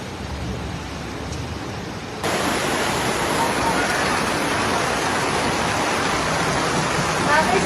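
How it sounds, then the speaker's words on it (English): Heavy storm rain pours down in Baden-Württemberg, Germany, in May 2023, a steady broadband rush of water that jumps louder after about two seconds and stays dense and continuous. "Storms and heavy rain on Sunday in the state of Baden-Württemberg caused many roads to flood."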